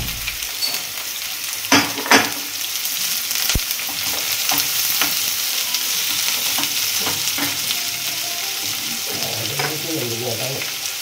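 Onion and green chilli sautéing in coconut oil, a steady close sizzle with occasional spoon knocks and stirring scrapes against the pan.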